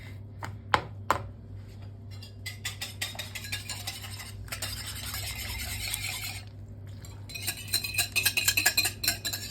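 Spoon scraping and clinking against a bowl while stirring zucchini fritter batter with egg and flour, a series of quiet intermittent strokes and rubs, close and soft, growing busier toward the end.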